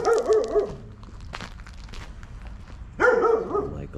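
A dog barks in two bursts, a short run of barks at the start and another after a pause, fairly close and loud over quiet ambient noise.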